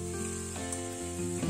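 Prawn and cabbage curry with a little ghee and garam masala sizzles steadily in a pan, a close, continuous frying hiss with no voices.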